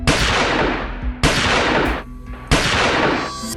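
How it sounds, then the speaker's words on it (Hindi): Three gunshots from a Beretta M1934 pistol as a sound effect, each a sharp, loud crack followed by a long, booming decay, evenly spaced about a second and a quarter apart. "अगले ही क्षण उसने अपने बेरेटा M1934 से 3 गोलियां दाग दी"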